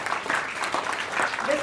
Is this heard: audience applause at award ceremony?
yes